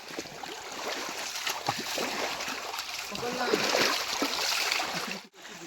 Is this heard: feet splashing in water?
yes